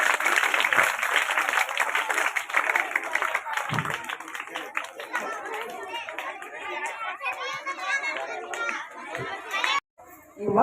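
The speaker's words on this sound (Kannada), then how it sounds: "ಮಕ್ಕಳೆಲ್ಲ ಜೋರಾಗಿ ಚಪ್ಪಾಳೆಯನ್ನು ತಟ್ಟಬೇಕು" Schoolchildren applauding at a primary school cluster-level talent event, with dense sustained clapping mixed with crowd chatter and children's voices, ending abruptly near the end.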